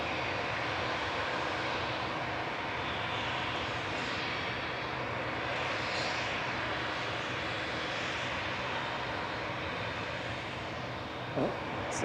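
A Boeing 787-8 departs Manchester Airport with a faint, distant, steady jet roar that holds evenly throughout, a small knock near the end.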